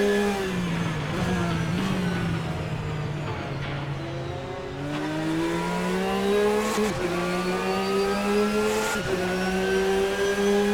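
GT race cars at the Barcelona circuit, engines revving loud and close as they climb through the gears, with pitch falling on each upshift and a brief tire squeal, continuous throughout.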